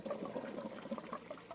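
Water from an automatic pond pump at a hotel gushes and splashes in a steady, busy stream, fairly close, with no talking over it.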